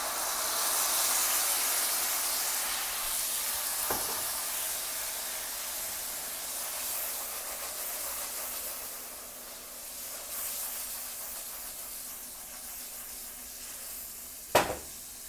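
Splash of white wine hitting a hot pan to deglaze it gives a broad, steady sizzle and steamy hiss, fairly quiet and close, with a couple of sharp clinks.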